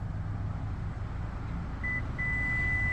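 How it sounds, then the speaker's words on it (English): A 2024 Subaru Outback Onyx Edition XT's power liftgate gives a steady electronic beep as its height is programmed: a short tone, a brief gap, then a longer sustained tone, all over a low idling hum and no talk. "All you do is hold it for a few seconds, and it'll beep, and now it's programmed for that height."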